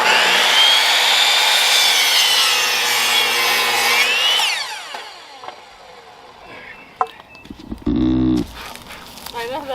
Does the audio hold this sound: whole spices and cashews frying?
no